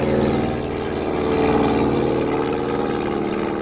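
A propeller airplane drones steadily in flight as a radio drama effect, a loud, continuous engine hum with layered tones that swells slightly and holds, with no voices over it.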